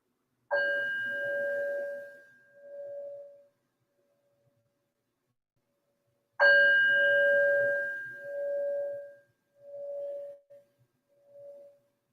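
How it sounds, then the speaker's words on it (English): A meditation bell is struck twice to open a yoga practice, each ring a clear bright tone that swells and fades in slow pulses over several seconds, the second strike about six seconds after the first, with silence around. "we'll invite the bell to bring us in"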